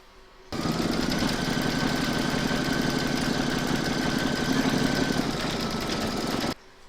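An embroidery machine stitches a word on an in-the-hoop baby scan photo frame, a steady rapid mechanical whirr running continuously at moderate volume for about six seconds before stopping abruptly.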